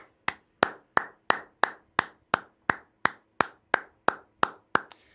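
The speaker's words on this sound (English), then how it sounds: "Everybody here, a round of applause for that ending." One person clapping alone in a slow, even rhythm during a live reaction to a WWE Raw show, about fifteen crisp, close claps spaced roughly a third of a second apart, with no talk.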